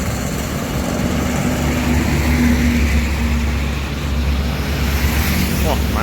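A Semarang Jaya bus racing down the road, its engine roar steady and loud under heavy road and traffic noise, close and constant throughout.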